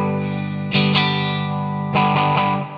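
A Harley Benton ST62 electric guitar on bridge and middle pickups together, chords strummed with a bright, slightly effected tone like an open wah, a few quick strums ringing out, then another cluster of strums, close and steady.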